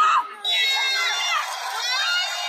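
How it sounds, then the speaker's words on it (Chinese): A crowd cheering and shouting in a gymnastics arena after a vault landing, with high excited voices and whoops swelling into a sustained roar that fills the hall. "掌声和欢呼声在场馆内久久回荡"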